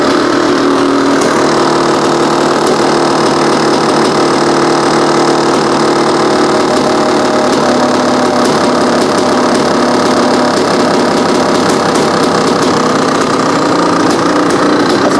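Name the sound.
Honda CR500 dirt bike engine idling with eBay carburetor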